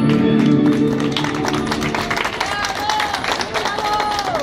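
Audience at an Argentine tango show in Buenos Aires breaks into applause, a dense wash of clapping rising as the last sung notes fade, with crowd chatter mixed in.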